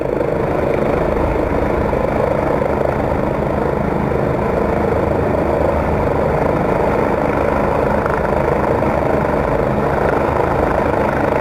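A rescue helicopter hovers inside a gorge, its rotors and engine making a steady, loud, unbroken drone throughout.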